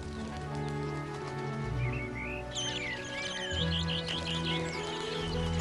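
Juniper thrushes give short, high chirps and trills over a steady low hum and a mid-level background drone, with the calls clustered in the second half.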